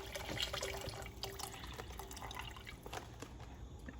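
Water pours into a pot of chicken soup already holding broth, a close, quiet splashing and trickling stream with scattered drips that runs unbroken for several seconds.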